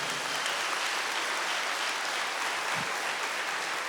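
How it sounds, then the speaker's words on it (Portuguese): Steady, even applause from a church congregation during a sermon, a dense wash of clapping at constant level with no voices standing out. "pode aplaudir"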